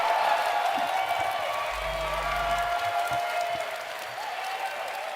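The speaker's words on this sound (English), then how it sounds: "can everyone here from id Software stand up for a well-deserved round of applause?" An audience at QuakeCon applauds the id Software team, a dense, sustained round of clapping with a few cheers mixed in that slowly tapers off, and no one speaking over it.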